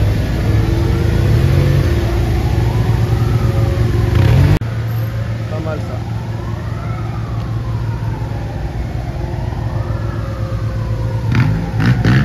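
A Porsche Carrera 4S engine idles loudly and revs repeatedly, rising and falling in pitch, with a siren faintly audible in the surroundings on a Paris street.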